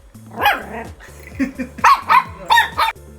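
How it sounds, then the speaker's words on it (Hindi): A Shih Tzu puppy barks indoors late at night, letting out a series of close, loud, high yappy barks in uneven bursts, with a short pause between the first yap and a rapid run of later ones. "तो फिर क्यों भौंक रहा है?"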